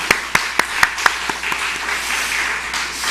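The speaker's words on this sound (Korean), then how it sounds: "우리 하나님께 한번 감사하며 박수하겠습니다." Church congregation clapping in thanks after a prayer, starting with several distinct rhythmic claps in unison, then spreading into a softer continuous wash of applause.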